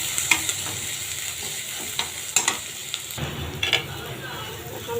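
Garlic paste fries in oil in a pan, a loud close sizzle with several sharp stirring clanks of a spoon against the pan, the crackle swelling after a fresh addition midway; no speech.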